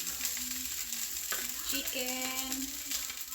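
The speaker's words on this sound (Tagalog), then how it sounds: "Ngayon, ihahalo aking chicken. Halo ko na ang aking chicken." Canned chicken is stir-fried into fried rice, with a steady close sizzle and occasional stirring scrapes and clinks, fairly quiet and with no voices.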